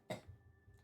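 A woman's single sharp cough in the video game The House in Fata Morgana, followed by a softer throat-clearing sound, close and brief, with another faint cough at the end.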